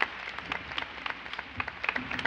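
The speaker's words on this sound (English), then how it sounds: "You guys can keep clapping." A small audience claps after a speaker's thanks, loose scattered hand claps at moderate distance with no voices over them, lasting only a couple of seconds.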